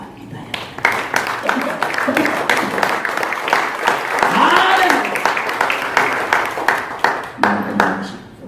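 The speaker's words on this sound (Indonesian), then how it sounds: "Kita berikan tepuk tangan bagi Tuhan kita ya" Applause and clapping from a church congregation at a Pentecostal praise and worship service, a steady wash of hands across the whole stretch with a voice speaking and calling out over it.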